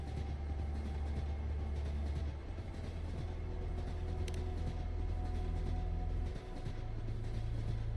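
A train rolls along in a Wuthering Waves video game cutscene, giving a steady low rumble with faint track rattle that shifts slightly in pitch twice.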